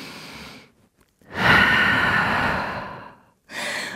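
Deep breathing during a yoga downward dog pose, with a long, loud, close exhale lasting about two seconds, bracketed by shorter softer breaths before and after, no talking.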